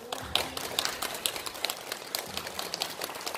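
Light audience applause at a Korean comedy-style talk show, a sparse, fairly quiet patter of individual claps with uneven rhythm, rising and fading without voices over it.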